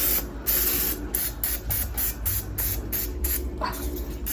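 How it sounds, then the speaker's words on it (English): An olive oil cooking spray can hisses in a run of short bursts, roughly one every half second, close and steady, with a faint clatter underneath. "I just use some extra virgin olive oil cooking spray"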